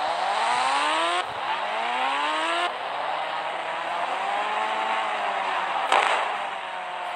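Engine of a fire-themed bike in a mobile video game roars and revs, with rising and falling pitch sweeps and brief tire-squeal bursts, loud and close, no talking.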